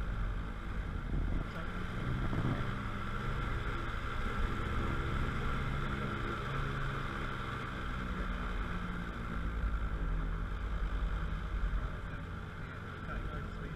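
An autogiro's engine runs with the choke turned off, a steady loud drone with low rumbling and wind buffeting across the microphone, while a voice talks over it.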